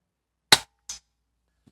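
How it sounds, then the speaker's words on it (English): An airgun firing a pellet at a metal target plate: a sharp crack followed moments later by a short metallic smack, both crisp and alone in a quiet setting. "I'm going to shoot the plate again."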